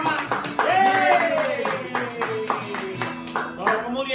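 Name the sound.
children and congregation clapping hands together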